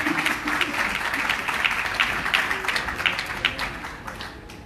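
Audience claps steadily at an awards ceremony, a continuous roomful of applause lasting nearly five seconds and gradually tapering off.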